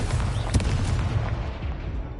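An Incendio fire spell cast in a Harry Potter video game makes a sustained booming, crackling blast with sharp bursts inside it, loud throughout and tapering a little at the end.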